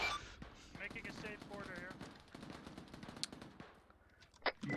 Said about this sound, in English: Yeah, it's shooting at our building.